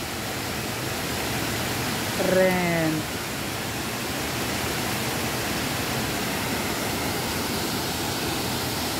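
A waterfall beside a natural mountain swimming pool gives a loud, steady rushing roar that fills the whole clip, with a short spoken word rising briefly above it near the start.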